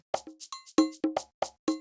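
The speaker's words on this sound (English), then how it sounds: "this drum machine right here, 727." Roland TR-727 drum machine playing a percussion pattern: a sequence of sharp, close, dry hits with clear pitched tonal decays, like congas and bells, in a steady clipped rhythm with no voices.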